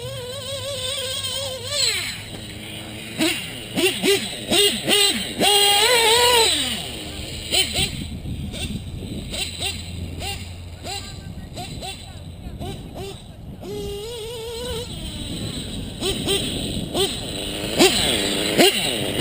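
A motorcycle engine runs loudly through an open exhaust, with revs rising and falling in bursts, and some talk mixed in near the end.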